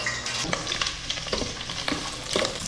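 Ginger sizzles and is stirred in a hot frying pan, a steady frying hiss broken by several scraping stirs, close and fairly loud, with no voices.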